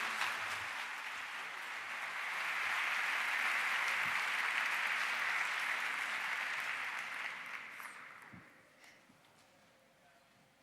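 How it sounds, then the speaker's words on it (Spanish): A talk audience at a science event claps in a sustained wave of applause that swells, holds, then fades away near the end. "Un aplauso muy fuerte para ellos."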